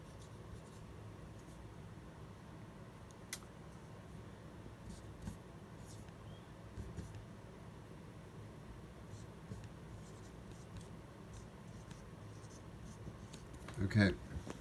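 Soft scratching of handwriting on paper, faint and intermittent with small taps and pauses, then a brief louder clatter near the end.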